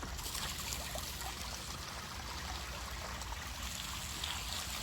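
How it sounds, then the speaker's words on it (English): Water draining out of a DIY four-stage koi pond filter after a valve is opened, a steady soft trickling rush that runs quietly and evenly throughout. "there's still quite a bit of water in here that I need to drain off"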